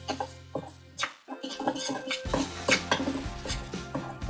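Sausage seasoning of salt, garlic powder and oregano being mixed for Italian sausage, heard as rapid clinking and scraping of a utensil against a bowl, busy and close, with no talk.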